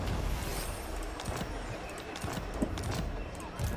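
Horse hooves clatter in a busy Warhammer 3 battle, with scattered whinnies and clashing noise throughout, dense and fairly loud.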